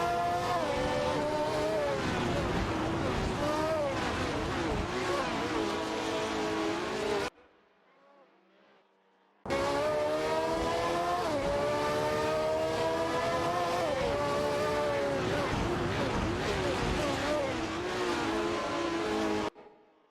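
Video game race cars circle a track, their engines whining loudly with rising and falling pitch as they shift and pass. The roar is steady and continuous apart from a short near-silent pause partway through.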